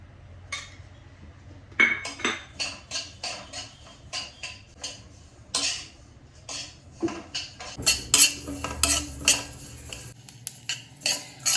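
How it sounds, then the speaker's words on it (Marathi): Unpolished sesame seeds roasting in a hot kadhai, stirred with a metal spoon that scrapes and clinks against the pan in a quick, irregular rhythm, close and unaccompanied by speech. "आता मी तीळ जे आहेत ते मी गरम करून घेणार आहे"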